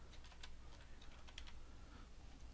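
Quiet, rapid keystrokes on a computer keyboard as a drawing number is entered, a short cluster of light clicks over a faint steady background hum.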